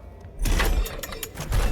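Mechanical doors slide open in Doom Eternal, a quick whooshing, clanking rush of motion that swells after a short quiet lead-in and holds loud and close for over a second.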